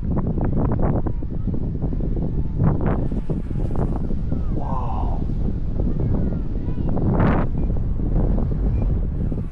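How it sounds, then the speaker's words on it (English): Loud, continuous wind buffets the microphone in heavy rumbling gusts at an outdoor RC F-16 flying session, with a faint rising tone briefly audible in the middle. "It is so windy right now."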